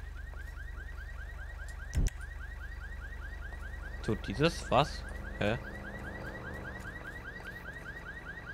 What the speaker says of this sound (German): Warum ist jetzt die Alarmanlage an?